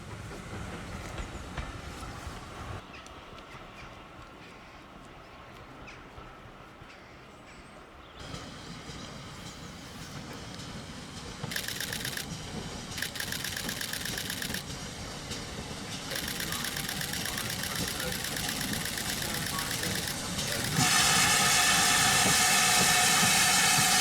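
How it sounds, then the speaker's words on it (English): A steam train running on the Severn Valley Railway during a winter gala, entering a single-track section. Its rumble and hissing steam build steadily louder, with sharp bursts of hiss toward the end and no talking. "this train's entering a single track section and will meet a train at Ardley."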